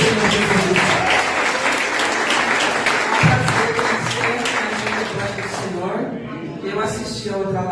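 Congregational applause at a Sunday church service rolls on steadily for several seconds, a dense wash of clapping with voices carrying over it before it thins toward the end.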